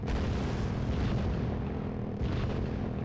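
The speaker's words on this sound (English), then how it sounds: "So let's put some mortars there." Mortar strike explosions in the game Red Dragon, a continuous dense rumble of booming blasts with heavy low end, overlapping impacts and a couple of sharper bursts, loud and sustained with no talk.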